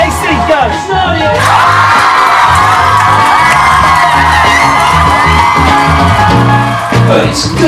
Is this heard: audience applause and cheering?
yes